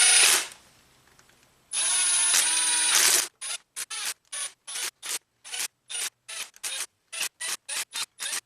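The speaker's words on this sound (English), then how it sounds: "So let's just lightly start screwing these down." A power tool drives bolts down on a Volvo engine during a timing belt job: two sustained whirring runs, then a quick series of short, sharp bursts in uneven rhythm, loud and close with no talking.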